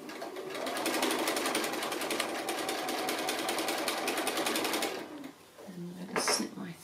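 A sewing machine stitching an applique runs in a steady, fast, even whir for about five seconds, then stops, followed by a few faint, brief room sounds.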